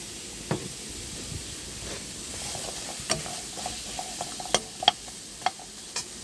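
Shallots and garlic frying for nam prik chili paste, a soft steady sizzle with scattered light clicks and scrapes of a spoon stirring in the pan, fairly faint and with no talking.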